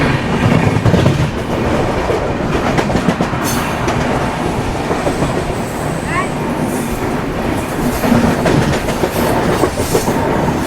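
The Rajdhani Express from Delhi to Secunderabad runs on rails during an overtake, with a loud, continuous rolling rumble and rhythmic clickety-clack of wheels over track joints, heard close from aboard the moving train.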